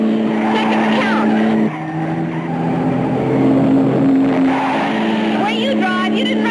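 A sports car accelerates hard through a curve, its engine roaring loud and close while tires squeal and skid in long wavering bursts, with voices speaking over the din.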